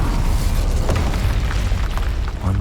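A fire spell bursts in Hogwarts Legacy gameplay, a loud, dense whooshing roar with a sharp pop near the start, filling the whole stretch without letup.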